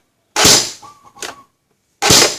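ARMY AUG A1 electric BB gun fired on semi-auto, sharp snappy cracks with a short mechanical whir between them, close and loud against silence.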